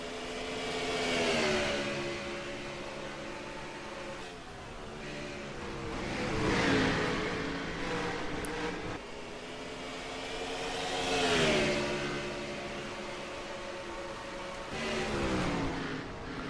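Modified race car engines in a racing video game at Thompson rise and fall in repeated revving sweeps as the cars circle the oval, a continuous droning whine without talk.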